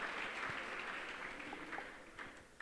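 Children applaud themselves at a Swami Vivekananda Jayanti celebration, a steady wash of many small hands clapping together, moderately distant and continuous for the whole stretch with no voices over it.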